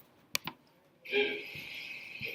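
A computer mouse gives two quick sharp clicks close up in a quiet room, followed by a brief soft rustle and faint background hiss.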